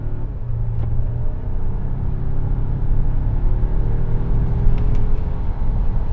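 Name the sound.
Volvo XC90 Recharge gasoline engine accelerating at full throttle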